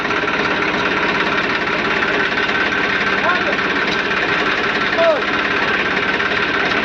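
A tractor's diesel engine chugs steadily with a knocking rhythm, loud and close, pulling open a JCB 3DX swing boom cylinder, while a voice briefly speaks over it.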